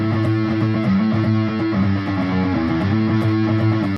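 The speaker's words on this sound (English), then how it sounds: "And a distortion guitar sounds like this" A distorted electric guitar plays sustained, thick chords, loud and continuous with no pauses, then cuts off right at the end.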